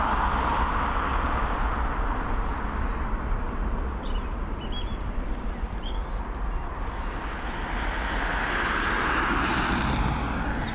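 An ATR turboprop aircraft at Dublin Airport, a broad, steady engine roar with wind rush filling the whole stretch, loud and continuous, without any talking.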